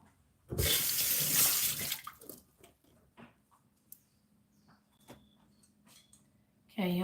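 Water from a kitchen sink tap runs loudly in a steady gush for about a second and a half, then stops. Quieter clinks and soft handling sounds follow, and a brief splash returns at the end.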